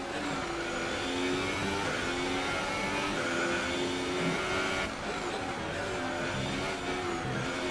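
A Formula 1 car engine in the F1 2018 racing video game drones steadily at high revs, with shifting whine and small pitch changes, moderately quiet and with no talk.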